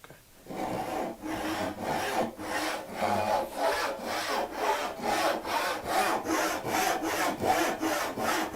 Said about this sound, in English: if you put just a little bit of downforce onto the saw, it suddenly catches